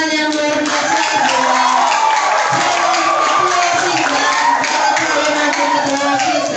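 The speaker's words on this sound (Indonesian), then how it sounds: "berikan tepuk tangan yang luar biasa" Loud, sustained applause and cheering fill a school hall for student council candidates at a vocational high school debate, with a dense wash of claps and crowd noise running throughout.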